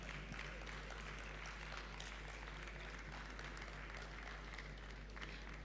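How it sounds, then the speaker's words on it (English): Audience applause at an AI innovation event in Lagos, greeting the moderator: steady, dense clapping from a crowd, fairly distant and even throughout, with no speech over it. "Ladies and gentlemen, please one more time a round of applause for Ashley Emmanuel"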